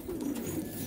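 Pigeons on a rooftop loft coo in a low, continuous murmur, close and steady for under a second with no talk.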